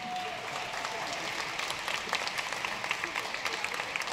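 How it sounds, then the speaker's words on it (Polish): Audience applause at a Christmas carol concert in Zielona Góra, steady dense clapping from a crowd that holds for several seconds, with a voice briefly audible at the start. "Wielkie brawa."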